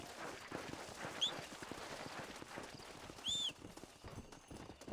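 Horse hooves clip-clopping in the Red Dead Redemption video game, a steady walking rhythm of hoofbeats throughout, with a couple of brief high whistling tones from the game over it.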